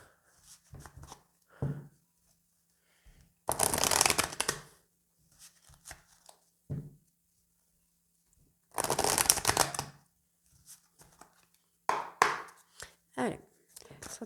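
Oracle cards being shuffled during a fifteen-card tarot-style reading, heard as two loud, dense bursts of riffling with a few lighter taps and handling sounds between them, close up and with no talk over it.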